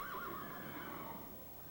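A horse whinnies in one long, wavering neigh that rises and then trails off, fairly close, with a soft ambient hiss behind it and no talking.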